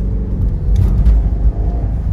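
Bentley W12 car accelerating smoothly and comfortably, a loud, close, deep rumbling engine note that stays steady with no talk over it.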